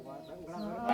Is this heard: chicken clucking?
yes